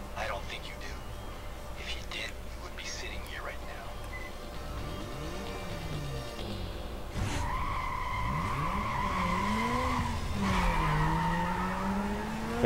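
Mazda RX-7 in Need for Speed Carbon skidding and racing, tires squealing in wavering sweeps with engine tones rising and falling, fairly close, with people talking over it.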